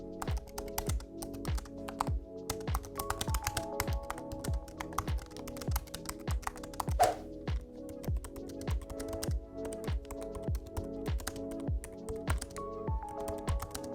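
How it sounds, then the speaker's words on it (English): Steady, rhythmic typing on the scissor-switch keyboard of an M1 MacBook Air, with soft, close key clicks at an even pace that continue throughout without speech. "So now they use this kind of scissor switch, and it's a really nice typing experience."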